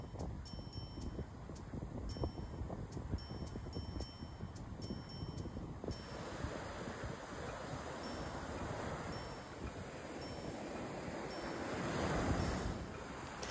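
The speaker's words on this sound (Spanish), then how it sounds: "Y así estábamos disfrutando de las olas del mar" Ocean waves wash onto the shore at an all-inclusive resort, a steady broad roar of surf with wind noise, swelling louder near the end as a wave breaks close by.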